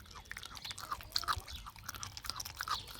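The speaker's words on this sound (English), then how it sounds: "She'll chew that for a bit." A dog chews on food, giving a steady run of soft crunching and gnawing bites at close range with a low background hum, no voices.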